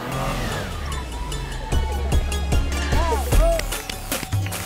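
A car engine revs hard while driving, rising and falling with bursts of acceleration, close and loud over a rough, rumbling background with occasional clattering knocks.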